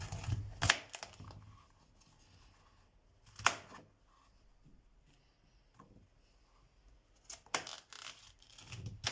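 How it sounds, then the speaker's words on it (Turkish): A knife thunks through pumpkin flesh onto a cutting board in a few sharp, separated chops while slicing thin strips, with quiet scraping and handling sounds in between. "İkiye böldük kabağımızı. Şimdi ince uzun dilimler yapacağız."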